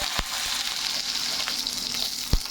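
Potatoes frying in hot oil over a mustard seed, nigella and dried chilli tempering, a steady loud sizzle throughout with a couple of sharp clinks from stirring.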